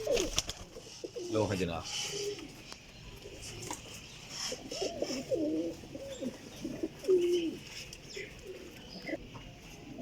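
Racing pigeons, a cross of Sialkoti and Golden breeds, coo in soft, repeated low calls near the microphone, under and between a man's speech.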